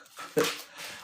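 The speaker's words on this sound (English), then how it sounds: "Sorry about the dog." Dog heard indoors in a kitchen, a brief close whimper followed by a short soft yelp, faint and over within a second.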